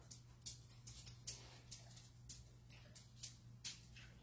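A tired dog indoors lets out soft, repeated whimpers and short whines, faint and close, in an irregular series of brief cries over a quiet low hum.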